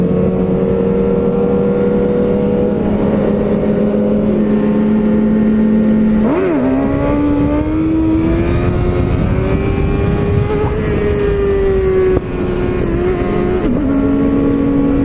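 A motorcycle engine revs hard during a wheelie on a group ride, a loud, steady, droning roar whose pitch dips and climbs as the throttle changes, with wind noise and no speech.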